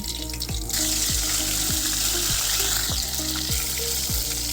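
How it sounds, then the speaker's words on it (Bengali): Tilapia fish frying in hot oil for a Bengali fish curry, a steady loud sizzle with recurring low thuds and clinks of the pan and utensil at regular intervals, no voices. "আর একইভাবে সবগুলো মাছ আমি ভেজে নেব।"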